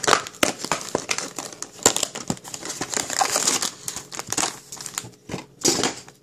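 Crinkly plastic packaging of a Popin' Cookin' donut kit is opened, giving loud, close, irregular crackles and crumples that continue for several seconds with no talking.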